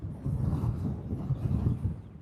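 Wind blowing over Lake Somerville makes a low, gusty rumble against the microphone, swelling and dipping steadily with no voices present.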